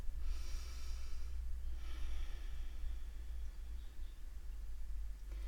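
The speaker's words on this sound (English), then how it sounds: "Just breathing." Slow, audible breaths in and out during a yoga break, two long airy inhalations or exhalations heard close up against a steady low rumble.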